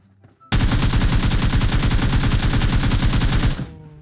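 Loud, continuous automatic gunfire in the mobile shooter PUBG Mobile, a rapid close-range burst lasting about three seconds that starts and stops abruptly, with no talking over it.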